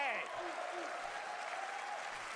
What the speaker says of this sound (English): Now let's also applaud Claire Obscure from Sandfall.